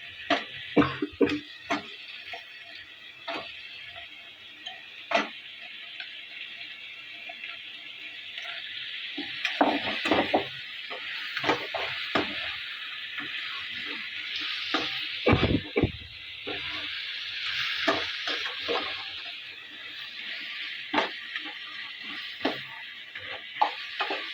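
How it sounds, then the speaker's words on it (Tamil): Sea crab frying in a pan for a spicy crab gravy, a constant hissing sizzle broken by repeated sharp scrapes and clacks of stirring, close and busy throughout. "இது கூட இப்போ நண்டு நான் ஆட் பண்ணிக்கிறேன்."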